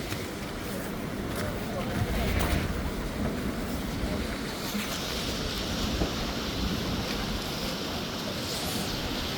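Water surges through the opened spillway gates of the Iranamadu reservoir with a steady, loud roar and whooshing wind across the whole span.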